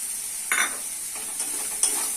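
Spice masala and vegetables stir-fried in a pan, a close bright sizzle broken by a few scraping stirs of a spatula, with no voices.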